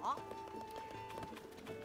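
Ganondorf's horse in The Legend of Zelda: Tears of the Kingdom trots with quick, faint clip-clopping hooves in an even rhythm, set low in the game's sound with a voice present over it.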